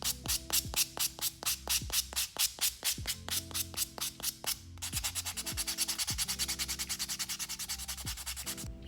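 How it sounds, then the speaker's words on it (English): A buffing block rubs across the surface of a nail in rhythmic, close strokes, slower and spaced at first, then turning into fast, short back-and-forth scrubbing, with a low tonal hum underneath. "I'm also going to take a buffing block and go ahead and buff the surface of the nail"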